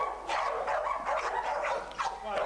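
A dog barks during a training session, giving a run of short, close, moderately loud yips and barks in quick succession, with faint background noise.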